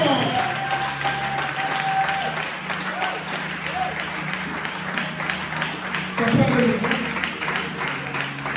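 Sustained applause and crowd noise from a congregation at a church worship service. Voices are heard beneath the applause throughout.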